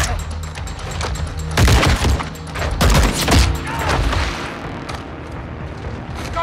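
Dense volleys of gunfire in the video game Modern Warfare 2 Remastered, heavy bursts and booming impacts swelling loudly around the middle of the stretch, then easing into a scattered background of shots.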